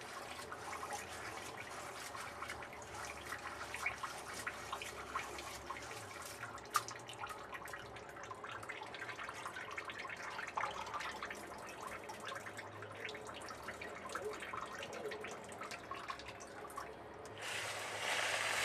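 Tap water runs steadily while rice is rinsed in a traditional clay claypot with a glazed interior, for sausage and pork rib claypot rice; a continuous close splashing and trickling wash that carries on throughout without a break.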